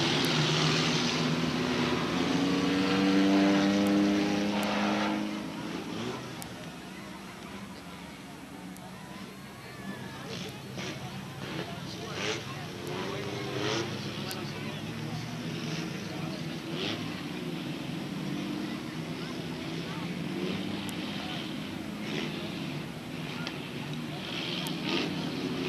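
Race cars roar around Star Speedway in 1990, a steady engine drone rising and falling as the field passes, with a commentator talking over it throughout.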